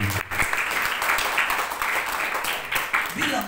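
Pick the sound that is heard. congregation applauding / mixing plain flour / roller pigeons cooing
congregation applauding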